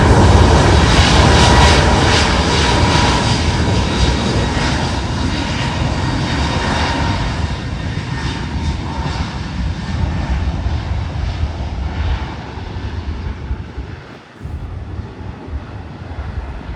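Loud, steady roar of Pratt & Whitney 1100G jet engines at full power on an airliner takeoff roll, broadband and sustained, with wind buffeting the microphone and a slight dip near the end.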